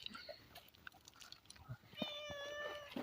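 A cat meows near the end with a drawn-out cry, after quieter rustling and chewing-like sounds, faint voices around it.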